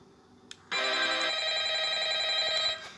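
A phone rings loudly and steadily in the Ultimate Custom Night horror video game, a continuous bright electronic ring that starts abruptly and holds for about two seconds before cutting off.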